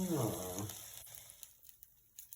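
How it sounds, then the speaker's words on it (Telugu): Beans, carrot, potato and meal maker soy chunks fry in a pan for veg biryani, a soft sizzle with light stirring clicks following a brief voice at the start. "ఈ బీన్స్, క్యారెట్ అండ్ ఆలు, మిల్మేకర్ మంచిగా ఫ్రై అయ్యే వరకు ఇలా ఫ్రై చేసుకుంటూ ఉండాలి"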